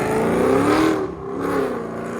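Cammed Chevy Camaro SS with headers, X-pipe, 2.5-inch exhaust, Dynomax race bullets and 5-inch tips, a loud, close engine rumble that revs up, dips briefly, then climbs again.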